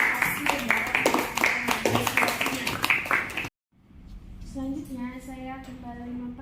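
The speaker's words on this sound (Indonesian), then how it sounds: "kita berikan terlebih dahulu tepuk tangan untuk delegasi dari negara Malaysia dan juga Indonesia" Applause rises for the Malaysian and Indonesian delegates at a model ASEAN summit meeting, a few seconds of steady clapping under a speaking voice, then breaking off abruptly before quieter talk resumes.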